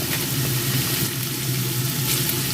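Carrots going into spring roll filling of mixed vegetables in a hot pan, giving a steady, close sizzle of frying without pause.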